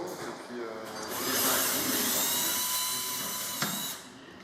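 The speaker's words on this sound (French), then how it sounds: "C'est la scie, voilà." A power saw whines steadily at a hospital construction site in Bamako where an operating block is still being built. The noise is loud and high-pitched, rising for a few seconds and then stopping.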